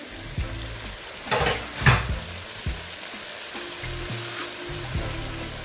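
Cleaned smoked fish goes into a pot of hot oil for a Koko mfumbua with smoked shrimp, setting off a crackling sizzle with a couple of louder splashy bursts over a low steady hiss and background music.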